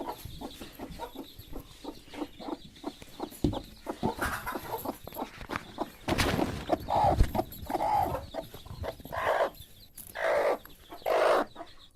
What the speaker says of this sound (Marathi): आज पुन्हा आपल्या एका कोंबडीला पिल्ले निघणार आहेत